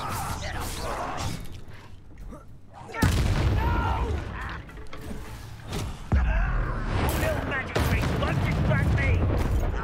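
Spell combat in Hogwarts Legacy brings heavy booms, whooshing blasts and crackling magic impacts in sudden bursts, while a player's voice speaks between the hits.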